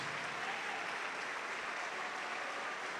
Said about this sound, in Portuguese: pode aplaudir ao Senhor Jesus agora